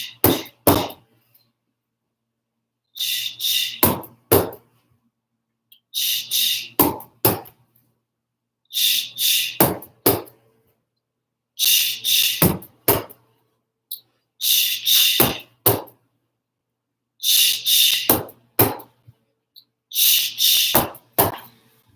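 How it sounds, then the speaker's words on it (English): Juggling balls are thrown and land in the hands with dull thunks, in eight evenly spaced bursts of three to four quick impacts each, separated by silent pauses. "ball throws to sound like this."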